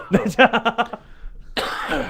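A rapid burst of several harsh coughs, from pills going down the wrong pipe, comes up close during a radio interview, followed by a short pause and then a voice talking.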